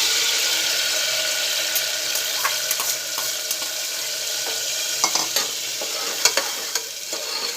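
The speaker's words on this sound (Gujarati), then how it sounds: "તો આપણું જીરું તતળવા લાગ્યું છે" Cumin seeds crackling in hot oil, a close, steady bright hiss with scattered sharp pops and ticks that grow more frequent toward the end, heard alone.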